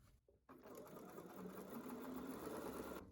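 A sewing machine chain-pieces quilt fabric, running with a fast, even mechanical whir up close after a brief pause at the start.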